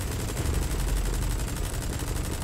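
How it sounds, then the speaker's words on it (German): Sustained automatic gunfire from the video game Metal Gear Solid V: The Phantom Pain rattles in a dense, rapid stream of shots, loud and continuous with no talk. "Und noch ein bisschen ballern."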